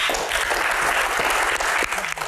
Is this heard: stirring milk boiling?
no